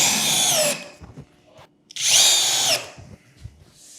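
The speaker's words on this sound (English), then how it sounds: "time to put the screws in." A power drill drives screws down into sheet material clamped on a SmartBench workbench, two close whirring bursts each under a second long, separated by a short pause and followed by faint handling clicks.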